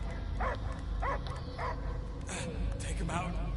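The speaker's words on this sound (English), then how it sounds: "I hear only barking." Repeated short dog barks in the Guardians of the Galaxy video game, several in a row at a moderate distance, set against a low, dense game soundscape with speech around them.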